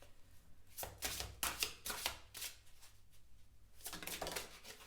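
Tarot cards are shuffled by hand in quick, crisp bursts of riffling and slapping, several separate rounds with short pauses between them, close and fairly quiet.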